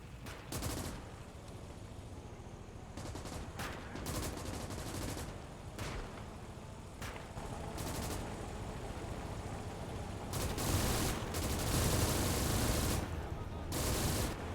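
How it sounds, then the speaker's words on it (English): Two machine guns rattling in sustained bursts during a battle in the World War II game Gates of Hell: Ostfront, dense overlapping gunfire that grows louder toward the end. "Double MG is just brutal."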